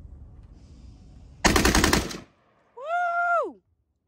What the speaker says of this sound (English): you just keep shooting until it's empty